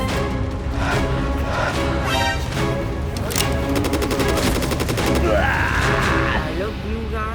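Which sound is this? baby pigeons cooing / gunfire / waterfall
gunfire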